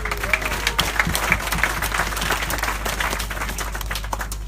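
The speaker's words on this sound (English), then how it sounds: "Give him a round of applause." Audience applause at a youth congress in Croydon, a steady wash of clapping from a crowd with scattered sharper claps, fairly loud and continuous with a low hum beneath.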